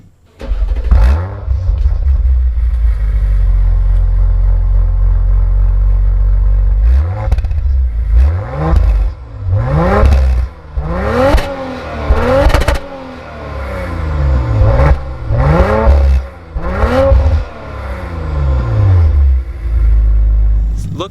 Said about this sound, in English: The butterfly valve opens up and this car comes alive.